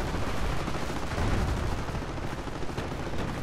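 Dense battlefield gunfire in Company of Heroes, rapid overlapping rifle and machine-gun bursts with distant booms forming a loud, continuous barrage without voices.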